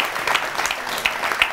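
Studio audience applause on an Indonesian talk show, a short steady patter of clapping at moderate level with a few sharper claps standing out.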